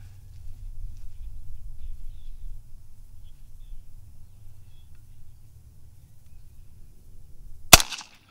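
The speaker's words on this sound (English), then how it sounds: "I'm gonna try to take one of these little bitty 17 grain bullets and split a playing card at 50 yards." A Savage A17 rifle chambered in 17 HMR fires a single sharp shot outdoors, a sudden loud crack near the end after a long stretch of low wind rumble.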